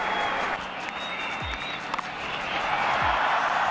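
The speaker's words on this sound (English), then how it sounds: "Appreciation by the crowd here at the National Stadium." Cricket crowd applauding steadily at the National Stadium during a 2004 India vs Pakistan one-day international, a broad even wash of distant clapping that holds throughout.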